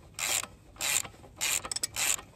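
A socket ratchet turns a screw on a 2022 Yamaha XSR900 exhaust, close up, in four short bursts of rapid clicking with a brief rattle between the third and fourth.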